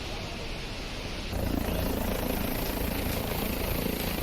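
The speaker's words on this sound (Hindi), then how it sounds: "धीरेन्द्र शास्त्री हेलीकॉप्टर से यहां पहुंचे" A helicopter at Badrinath Dham drones with a continuous rotor and engine roar. It grows noticeably louder after a short quieter stretch, then holds steady and close with no voices.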